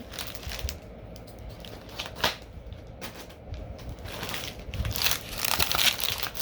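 A taped comic book haul package being opened, with scissors and tape scraping, crinkling and crackling in irregular bursts at close range, fairly quiet, with a few sharper rips near the end.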